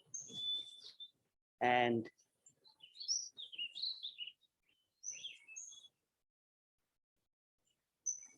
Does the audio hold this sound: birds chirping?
yes